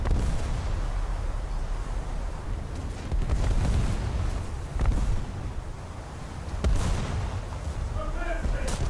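Battleship guns from HMS Barham fire in a naval video game, several deep rolling booms landing a second or two apart over a steady low rumble, loud and close.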